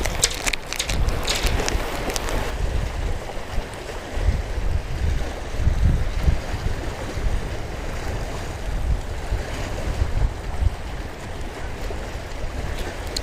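Strong wind gusting across a lake during a crappie fishing trip from a boat, a steady loud roar of wind buffeting with water lapping beneath it and no talking.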